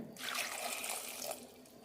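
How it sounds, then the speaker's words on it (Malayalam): Water pours into a pot of ash gourd curry in a steady, close rushing stream lasting just over a second before tapering off, with no voices. "ഇനി ഇതിലേക്ക് ആവശ്യത്തിനുള്ള വെള്ളം ഒഴിക്കാം"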